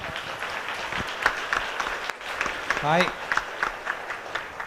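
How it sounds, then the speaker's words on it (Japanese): An audience at a seminar in Hong Kong claps to welcome a speaker, moderately loud rippling applause with a brief dip midway, while a voice speaks over it. "大きな拍手お願いいたします。"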